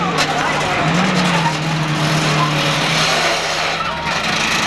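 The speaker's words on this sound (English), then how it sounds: "Hear that transmission grinding on the Seekonk bus as he backs up." A school bus in a demolition derby at a speedway grinds its transmission while reversing, a harsh rasping drone under loud engine roar and crowd noise, with a commentator talking over it.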